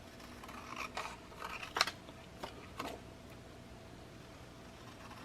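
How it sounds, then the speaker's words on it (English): Regular scissors cut out a traced craft plastic template, giving a few crisp snips and rustles close by, in brief bursts over quiet room tone. "then they cut it out just with regular scissors"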